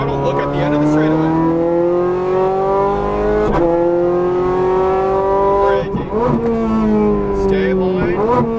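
A Ferrari 430 Scuderia accelerates hard on a race track, its engine note climbing steadily and loud, with quick gear changes causing brief dips before the revs rise again.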